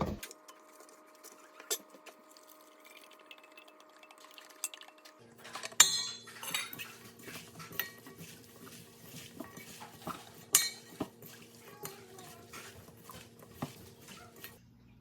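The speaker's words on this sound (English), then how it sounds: "now we are going to mix all the ingredients together" Utensils tossing a wilted kale and peach kimchi salad in a bowl, with soft clinks and scrapes of cutlery against the dish, irregular and close, growing busier halfway through with no talking.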